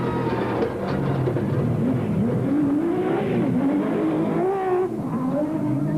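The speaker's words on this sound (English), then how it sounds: "they off with the V6 Nissan engine at peak RPM" A Nissan Hardbody super truck with a V6 engine revs hard at peak RPM off the start line of the 2001 Baberspan 500 off-road race, a loud continuous engine roar with rising and falling pitch and some tyre scrabble throughout.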